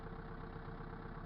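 A tractor engine runs steadily while spreading fertilizer on a small hay field, a low, even idling drone that stays quiet and constant throughout with no voices.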